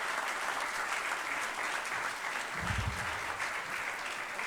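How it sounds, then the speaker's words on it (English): Audience at a university faculty appreciation event applauds, a steady dense wash of many hands clapping at moderate level throughout, with a brief low thump near the end. "all need a big applause"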